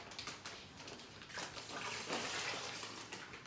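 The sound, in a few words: pouring brine over pork loin in foil pan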